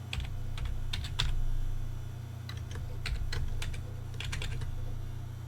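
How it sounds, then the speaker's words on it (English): Password being typed on a computer keyboard in several quick bursts of close, crisp key clicks, separated by short pauses, over a steady low hum, with no talking. "so stick with me for a minute so I can type this in here"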